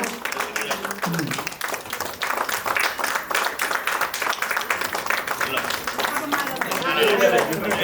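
Guests at an engagement ceremony clap continuously, a crowd's rolling applause mixed with lively talk and chatter, building slightly louder toward the end.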